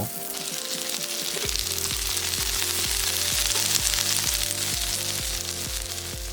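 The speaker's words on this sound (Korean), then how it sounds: "식용유 2스푼 달궈주면 냉동 물만두 35개 넣고 앞뒤로 노릇노릇하게 돌려가며 구워주고" Thirty-five frozen water dumplings pan-fry in two spoonfuls of hot cooking oil over medium-low heat, giving a steady, close sizzle and crackle with a repeating musical pattern underneath and no talking.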